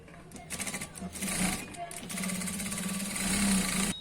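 A sewing machine runs in steady bursts while stitching the seam of an ankle-length pant, its motor whirring and needle chattering close by, with a voice talking over it.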